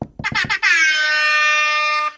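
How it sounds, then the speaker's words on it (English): A few short staccato honks, then one long, loud, sustained air horn blast lasting well over a second, close and piercing. "I forgot that I had an air horn."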